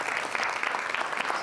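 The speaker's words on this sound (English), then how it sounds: "we should have a big round of applause for all participants as well" Audience applause at a women in cybersecurity event honoring all participants, a steady wash of many hands clapping together, fairly loud and continuous throughout with no talking.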